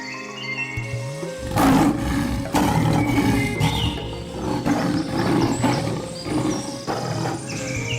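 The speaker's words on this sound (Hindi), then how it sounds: "शेर ने दहाड़ते हुए कहा" A lion roars in a jungle cartoon, a loud, rough, sustained roar in several surging bursts over about six seconds, alone with no speech.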